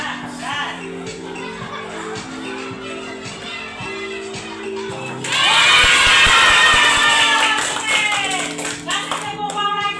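A group of children in a primary school class bursts into loud clapping and excited shouts after a stretch of quieter talk and background sound.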